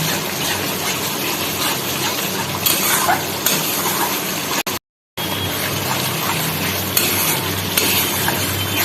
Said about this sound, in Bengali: ভালো করে নেড়ে চেড়ে নিতে হবে যেহেতু কাজু সাদা তেল দেওয়া আছে সমানে এটা নাড়তে হবে